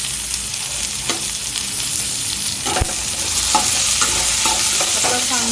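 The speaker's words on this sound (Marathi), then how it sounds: "आपला कांदा ब्राऊन राईस चांगले फ्राय झाले." Onion and brown rice with turmeric fry in a pan for a vegetable pulao, a loud, steady sizzle with occasional spoon scrapes and taps on the pan.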